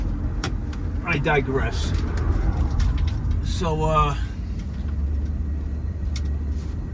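A 1987 Mercedes-Benz 560SL with 24,687 miles cruising on the road, its steady engine and road rumble running throughout under a voice.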